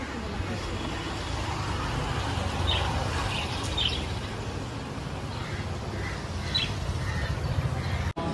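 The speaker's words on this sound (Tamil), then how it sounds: "நம்ம வீட்டில் ஒரு குருவி வந்து உட்கார தெரியுமா?" A sparrow chirps at home in short, high, scattered calls a few seconds apart, heard over a steady hum of road traffic from outside.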